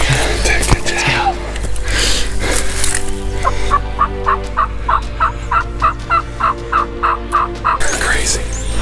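A wild turkey gobbler calls in a spring hunt in West Virginia, a loud rapid rattling gobble of many quick pulses heard close by, with brief voices around it.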